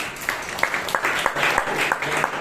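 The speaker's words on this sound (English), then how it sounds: "I think she deserves a round of applause" A Toastmasters meeting audience in Bangalore claps together in a round of applause, a steady patter of hands from a modest crowd lasting throughout, with faint voices mixed underneath.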